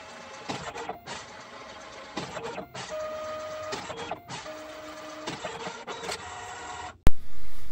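A Dascom DC3300 ID card printer prints a card, its mechanism whirring and clicking in loud bursts with short pauses between passes, ending in a sharp clunk as the card is ejected.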